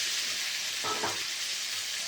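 Tomatoes frying with salt, cumin and bay leaf in a pan for a mutton curry give a steady soft sizzle, with a brief louder burst near the middle as they are stirred.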